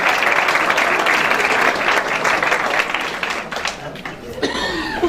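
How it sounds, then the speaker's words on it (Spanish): Audience in a university lecture hall applauds a guest speaker (a doctor) after his introduction, a loud, dense round of clapping with some chuckling that fades slightly toward the end. "para quien pido un fuerte aplauso"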